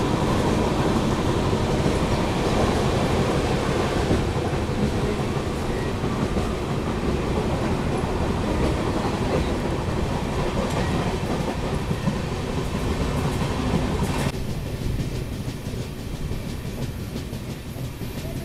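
A Ranchi Rajdhani express overtakes on a parallel track beside the Patna–New Delhi Amrit Bharat Express, a steady loud rumble of wheels and rail clatter running throughout, dropping slightly near the end.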